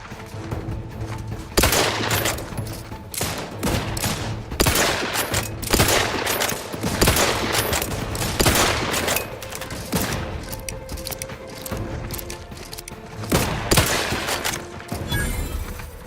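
Gunfire in the video game The Outer Worlds 2, a rapid string of loud sharp shots in irregular bursts with short pauses, fired from a raised position and heard up close.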